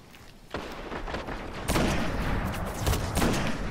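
Shotgun blasts in the Destiny video game, a thump near half a second and heavier booms later on, fairly loud against busy game background noise.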